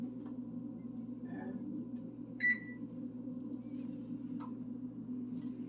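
A stove control panel gives a short electronic beep while the bake setting is entered for 500 degrees, the single clear tone rising over a steady low kitchen hum with a few faint clicks around it.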